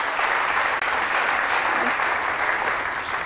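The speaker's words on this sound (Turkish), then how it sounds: "Alkışlar Ece Nur'a gelsin" Studio audience applause on the Turkish quiz show Kim Milyoner Olmak İster, a dense, steady wash of clapping that stays loud and even with no talk over it.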